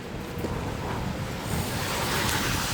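Cold wind blowing outdoors: a steady, broad rushing roar with gusty buffeting against the microphone, continuous and fairly loud throughout.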